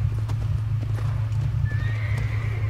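Horse hooves clip-clopping steadily alongside a whinny in the Red Dead Redemption video game, set over a constant low rumbling game ambience with no talk.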